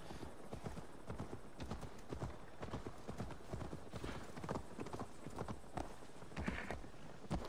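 Horse hooves clip-clop in a steady walking rhythm in Assassin's Creed Valhalla, close and continuous, with a brief whinny and faint talk in the background.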